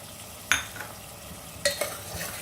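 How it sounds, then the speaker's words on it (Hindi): A spoon stirs pressure-cooked chana dal with potatoes in a pan as it roasts, giving two distinct scraping strokes over a soft, steady sizzle. "अब इसे खोलकर हम चलाएंगे और इसे भूनते जाएंगे।"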